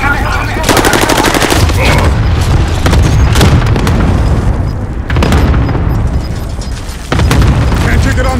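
Cluster strike explosions in a Call of Duty match, a dense loud barrage of booms and rattling blasts rolling on continuously with brief dips, heavy low rumble underneath.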